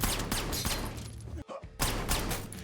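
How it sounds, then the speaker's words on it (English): A rifle fired as a warning shot in a hotel scene of an action film gives sharp, loud cracks amid tense background sound, with a brief quiet drop in the middle. "He fires a shot to warn John."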